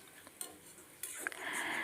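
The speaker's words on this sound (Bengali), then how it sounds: "আমি একটু একটু করে মশলাটা কষতে থাকবো আর তার সাথে চিকেন স্টকটা একটু একটু করে দিতে" Spice masala being stir-fried with chicken stock in a pan for garlic pepper chicken, with a spoon scraping and clinking against the metal and a soft sizzle rising near the end, faint and close.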